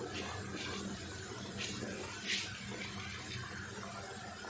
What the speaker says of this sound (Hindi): 3 गिलास चावल हैं हमारे पास तो हम 5 गिलास पानी डालेंगे